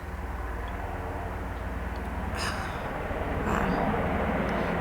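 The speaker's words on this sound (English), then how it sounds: "there's another helicopter there" A steady, fairly loud aircraft drone hangs overhead, a helicopter passing with a constant engine rumble that swells slightly toward the end.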